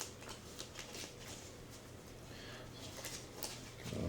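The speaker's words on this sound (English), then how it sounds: "A nice shuffle" A deck of cards being riffled and shuffled during a tabletop board game of Terrorscape, a steady close run of soft papery flutters and snaps lasting several seconds, with no talking.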